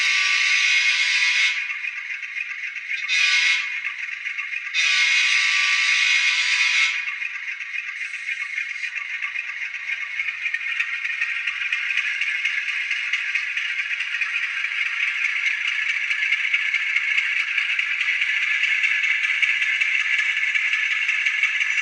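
An Atlas N scale GE B30-7 model locomotive in Southern Pacific livery runs very slowly with its sound on, giving a thin, buzzy, rattling engine drone with bursts of a higher horn-like tone early on, steady and alone.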